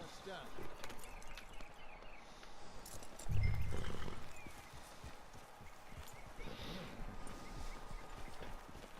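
Rhythmic clip-clop of horse hooves at a steady walk in Red Dead Redemption 2, with a brief loud thud partway and someone talking over it.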